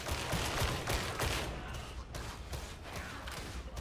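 Rapid bursts of video-game gunfire rattle through a kill shot, dense overlapping shots that continue steadily from start to end.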